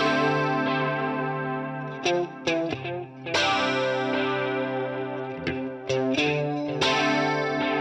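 Electric guitar played through a chorus modulation effect with some distortion, sustained chords and ringing notes shimmering and swirling, with a few sharp pick attacks and brief dips, loud and alone.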